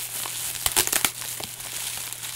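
Plastic wrapping on a mailed parcel crinkles and rustles as it is torn open, with bursts of crackling around the middle amid a low steady hum.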